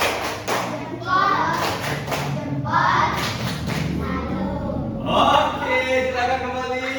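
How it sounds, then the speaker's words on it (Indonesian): Schoolchildren in an elementary classroom clap out a rhythmic 'good job' cheer, with bursts of thumping claps under loud children's chanting voices. "Ayo berikan tepuk good job"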